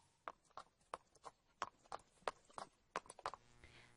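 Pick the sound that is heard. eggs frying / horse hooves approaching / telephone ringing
horse hooves approaching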